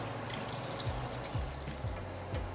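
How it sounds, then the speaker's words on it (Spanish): Water drains from opened cans of hominy in a steady, soft trickling pour, with a few low glugs spaced through the stream. "Ahora ya abrimos las latas, vamos a quitarle todo el agua que tiene."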